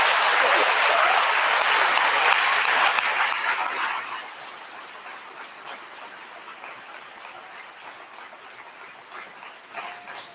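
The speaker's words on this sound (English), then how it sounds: "We'll give you a round of applause to get you out of here." An audience at a senior awards event claps for the award finalists, with loud, dense applause for about four seconds that then thins to scattered, quieter clapping.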